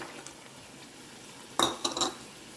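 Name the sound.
stirring onion in pan deglazed with wine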